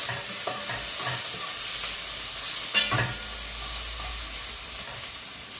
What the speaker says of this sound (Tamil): இப்போ அதையும் சேர்த்து நல்லா மிக்ஸ் பண்ணி வதக்கி கொள்ளுவேன்.